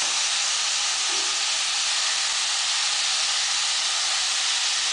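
Chopped tomatoes sizzling with sautéed onions in a pan for a Srirangam-style tomato bath, a steady broadband hiss holding at an even level throughout with no talk.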